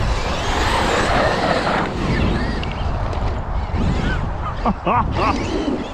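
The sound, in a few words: Traxxas XRT RC truck racing at full power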